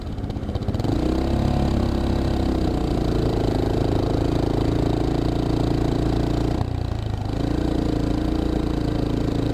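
A Geon X-Road light 250 motorcycle rides through city streets, its mid-pitched engine droning loud and steady throughout, with a brief dip in the rumble partway through as the throttle eases and then builds again.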